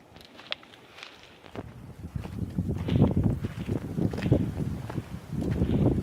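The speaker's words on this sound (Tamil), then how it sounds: "காற்று தான் கொஞ்சம் பலமாக அடிக்குது" Strong gusty wind blows across a mountain trail climbing toward a hilltop temple, a low buffeting rumble that grows louder and more turbulent, with faint crunching footsteps underneath.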